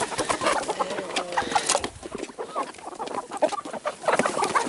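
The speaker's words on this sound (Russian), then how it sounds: "Куры." Several chickens cluck and chatter together near feeding time, a busy, fairly close mix of short clucks with no talking.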